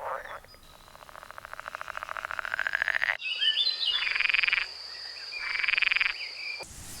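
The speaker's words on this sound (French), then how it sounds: "j'ai la grenouille de l'Essonne" Lessona pool frogs calling from a reedbed pond in a nature reserve, a rapid pulsing croak that builds in intensity, then gives way to repeated buzzy chorus bursts with insect-like trills, fairly close and continuous.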